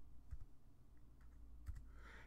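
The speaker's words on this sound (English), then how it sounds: "So I'll start typing in the word punch." Quick typing on a computer keyboard while entering a search term in CAD software, a few short, soft clicks and key taps close by over quiet room tone.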